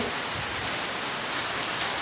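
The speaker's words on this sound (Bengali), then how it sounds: "দেখুন কী পরিমাণে বৃষ্টি, প্রচণ্ড বৃষ্টি সকাল থেকে হচ্ছে" Heavy rain pours down in a dense, constant hiss with no pauses, loud and close.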